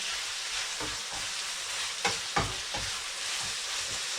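Food fries and sizzles steadily in a pan as chicken cooks for a quick Caribbean-Mexican dish, with a few louder crackles and stirring scrapes standing out over the continuous hiss, and no voices.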